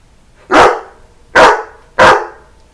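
A dog barks three times, loud and close, each bark a sharp single burst separated by short pauses, with no talking.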